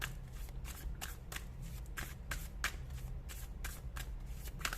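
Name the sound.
tarot cards being shuffled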